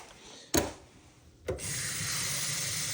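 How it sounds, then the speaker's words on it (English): In a kitchen, a tap opens with a clunk and water pours steadily into a container, close and loud, preceded by a brief knock. "Get some water in here."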